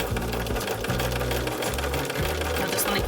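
A Bernina sewing machine stitches a fabric bookmark, running in loud, fast whirring bursts with brief pauses between them as the corner is turned, close up.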